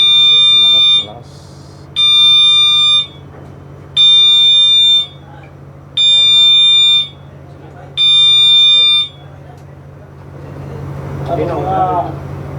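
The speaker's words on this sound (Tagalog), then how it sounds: "General alarm." A ship's general alarm under test, a loud, harsh electronic tone sounding in five even two-second blasts with one-second gaps, followed by rising background noise and indistinct voices.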